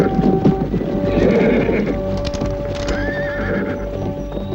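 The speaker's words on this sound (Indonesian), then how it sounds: "ada 10 orang naik kuda sedang menuju kemari" Ten horses with riders approach. Hooves clip-clop loudly and close, and there are repeated neighs and whinnies over a dense, busy background.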